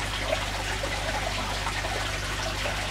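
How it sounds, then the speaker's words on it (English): A small stream of water trickles steadily through a custom betta tank, a soft continuous babble with faint droplet splashes and a low hum underneath. "that little stream running through there"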